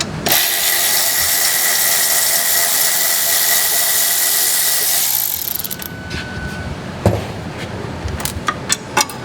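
A 10mm wrench works loose the battery cable nuts on a Prowler, a dense rasping mechanical whir for several seconds followed by scattered metallic clicks and taps at close range.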